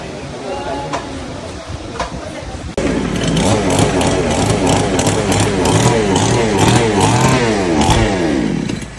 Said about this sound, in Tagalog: Yan, mga generator po yan,